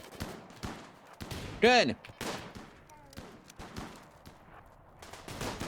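Defensive turrets fire in Rimworld in short scattered bursts and single shots, loud and close, while a person talks briefly over them.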